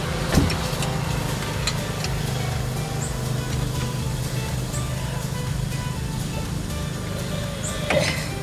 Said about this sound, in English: somebody comes up behind me with a noisy ass car